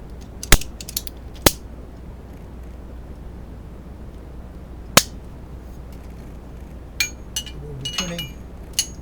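Metal wrenches clinking and ratcheting while loosening the fuel pressure regulator on a GM 3100/3400 V6 engine, heard as a few sharp, close metallic clinks spread over a quiet background with a faint voice near the end.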